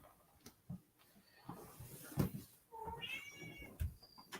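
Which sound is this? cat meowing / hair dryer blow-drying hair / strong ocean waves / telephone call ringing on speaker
cat meowing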